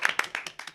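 Short, faint clapping from a small audience, a few distinct hand claps in quick uneven succession lasting under a second.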